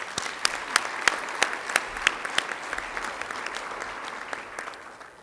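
Applause at a city Women's History Month celebration: a modest audience clapping with distinct individual claps standing out sharply, steady for several seconds and thinning toward the end.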